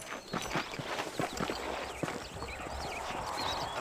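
Steady clip-clop of horse hooves trotting along in the video game Red Dead Redemption, close and rhythmic, with faint ambient noise behind.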